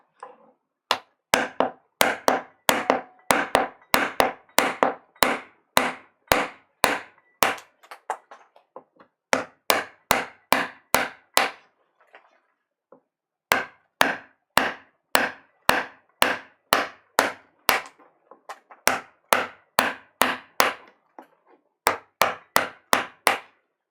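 Rapid, sharp hammer blows in long bursts, very close and loud, with a few brief pauses between runs of strikes.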